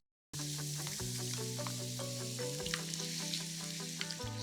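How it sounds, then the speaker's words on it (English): Tomatoes added to garlic frying in a pan, a sudden burst of steady sizzling that continues close and even, with faint stirring clatter. "Next, I'm going to add my tomatoes."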